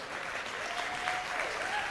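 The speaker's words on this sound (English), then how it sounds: "Everybody give her a round of applause." An audience at a health conference talk applauds, steady, moderately distant clapping that fills the short moment without talk over it.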